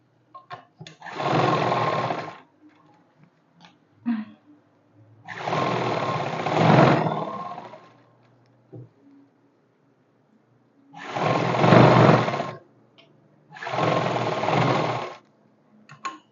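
A sewing machine stitches the inner seam of a pair of trousers in four separate, steady whirring runs of one to two seconds each, with short quiet pauses and small clicks between them.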